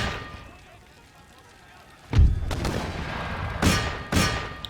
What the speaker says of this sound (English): See the mortar shells flying over.